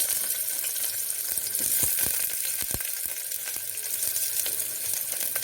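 Onion frying in hot oil inside a pressure cooker for chicken soup, a loud continuous close sizzle with a few sharp crackling pops, no talking.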